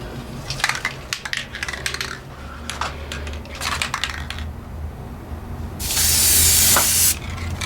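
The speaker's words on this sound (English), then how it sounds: "And what I'm going to do is just spray." A steady aerosol hiss of high-gloss spray paint sprays for about a second and a half onto cabinet drawers, preceded by scattered clicks and rattles of handling, with a low hum underneath.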